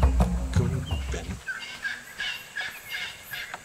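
Wild bird calls in the survival video game Ark Survival Evolved, a loud low gobbling burst at first, then a string of thin high chirps and whistles repeating at moderate distance over steady ambient game noise.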